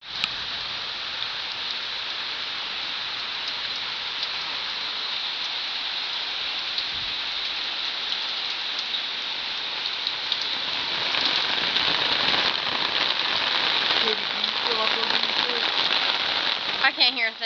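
Steady rain falls in a continuous close hiss while someone showers outdoors in it, growing slightly louder and more crackly toward the end, with faint voices underneath.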